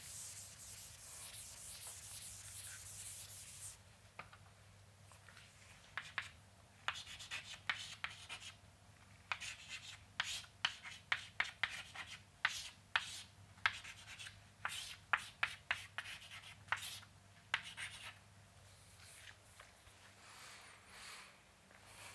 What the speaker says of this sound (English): let me write it down at the bottom